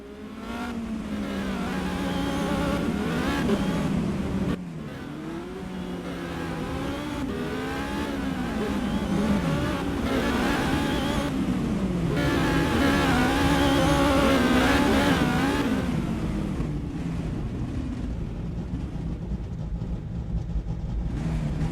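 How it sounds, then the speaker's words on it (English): Race car engines in a sim racing game's Mexico round roar and rev continuously through a stadium section, with a brief dip in the middle before pitch climbs again, loud and with no voice over it. "as the cars now go through the stadium section"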